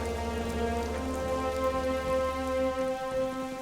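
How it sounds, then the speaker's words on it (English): Light rain falls in a steady, even hiss of drops, heard close and continuous with a low droning hum beneath it, and no talking. "Light rain began to fall"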